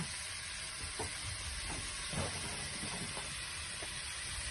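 Cooked chicken breast sizzles steadily in a pan as champagne and paprika are added, with a constant hiss and a few soft stirring scrapes throughout.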